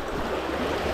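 Rushing white water in a rocky stream bed of foot-wide stones, a steady broadband roar filling the whole second without pause, close and constant with no voices.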